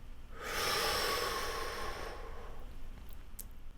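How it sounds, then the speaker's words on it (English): A slow, deep breath drawn in through the nose and mouth, a soft airy rush lasting about two seconds, close and quiet, then fading out. "Take 5 deep breaths into your belly"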